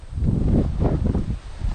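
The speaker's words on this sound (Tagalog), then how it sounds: "lakas pa ng hangin ah" Strong wind roars and buffets the microphone in a steady low rumble, with faint rustling of tomato plant leaves mixed in.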